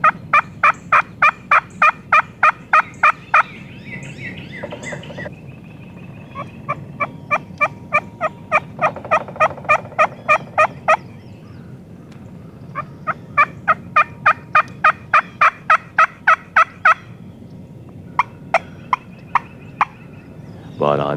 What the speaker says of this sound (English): these gobblers just had to come and investigate Harold's lonesome hen